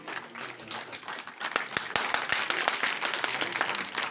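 Audience at a village retirement ceremony gives a round of applause, quiet at first and swelling into fuller, denser clapping with a few sharper individual claps standing out.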